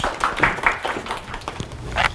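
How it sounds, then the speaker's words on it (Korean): An audience at an info session for a middle school course gives a speaker a short round of applause, with steady, moderate clapping in a room throughout. "박수 한번 주십시오."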